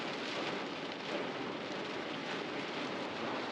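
Hard rain heard from inside a truck: a soft, steady hiss of rain drums on the roof without a break, faint and muffled, with no voices.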